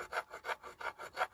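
A whetstone rubs back and forth over scuff marks on an alloy wheel, six even rasping strokes in a quick steady rhythm, close and fairly quiet.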